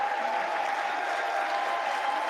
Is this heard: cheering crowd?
yes